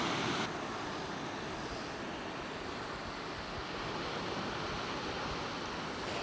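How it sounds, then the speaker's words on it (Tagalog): Steady broadband rushing of wind and surf at Patar White Sand Beach in Bolinao, Pangasinan, loud and constant throughout with no voices. "Hangin."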